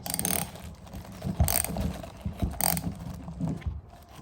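A wrench works on a TRD oil filter on a third-generation Toyota Tacoma, giving close, irregular metallic clicks and clanks with a few sharper knocks and no talking.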